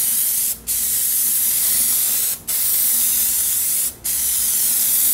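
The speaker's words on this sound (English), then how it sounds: "Rotate around the pumpkin, keep it at the same spray distance," An aerosol can sprays rubber coating onto a pumpkin in loud, steady hissing bursts, with three brief pauses where the nozzle is released.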